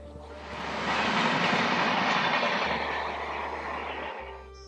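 A train rolls past on a railway line, a loud continuous rumble with rattling wagons and clickety-clack that swells near the middle and fades toward the end, with no talking.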